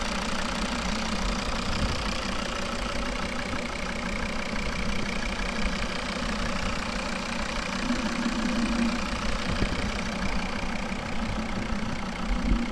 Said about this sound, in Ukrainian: Класно працює двигун